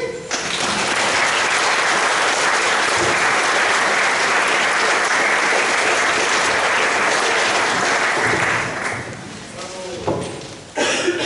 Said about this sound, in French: Et nous pouvons vous applaudir et baptiser.